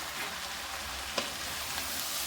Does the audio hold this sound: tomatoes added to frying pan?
yes